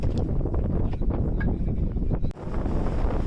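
Strong wind buffets the microphone high on Velliangiri mountain, a loud continuous rumbling gust with no break across the whole short stretch.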